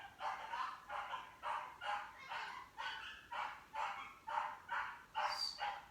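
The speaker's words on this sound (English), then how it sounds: "There's a strange dog noise going on outside." A dog barks outside in a steady, regular series of about a dozen barks spaced roughly half a second apart, faint and distant with no talk over it.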